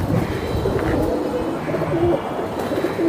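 A pair of red Gola Giribaz pigeons coo steadily at close range, low soft calls repeating without pause and no voices heard.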